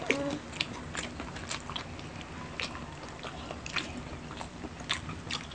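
Squid is chewed up close during a seafood mukbang meal, with soft wet bites and crunches repeating irregularly and no talk.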